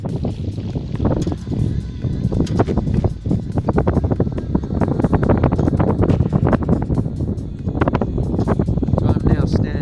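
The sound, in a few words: strong wind on boat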